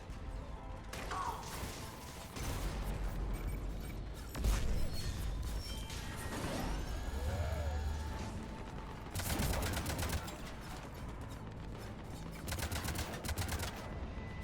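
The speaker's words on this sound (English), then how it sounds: "Cannons engaging." Cannons fire in the video game Mass Effect 3 during a battle on Omega, heavy rapid bursts and booming volleys repeating loudly over whirring mechanical noise and clanks.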